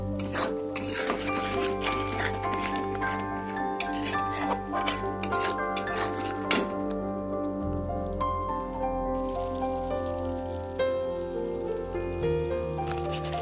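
Matar paneer curry being stirred in a pan after Kashmiri chilli goes in, with steady scraping and clinking of a utensil against the metal pan over continuous sizzling, close and fairly loud, no talking.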